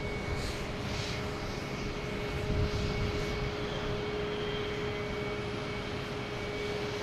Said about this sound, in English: next to arrive is Aer Lingus coming in from Dublin at A330, 300